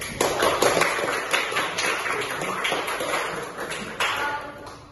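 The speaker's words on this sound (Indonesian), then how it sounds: "Mari kita berikan apresiasi dengan tepuk tangan." Seminar audience applauding a speaker after a presentation, a steady wash of many hands clapping with a few sharper taps standing out, fairly close and continuous throughout.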